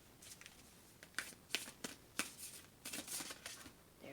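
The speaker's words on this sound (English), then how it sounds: "I'm just going to pick one card for each one." Tarot cards being shuffled and drawn from a deck, a quiet run of soft papery flicks and riffles with several crisp snaps, close up and with no talk.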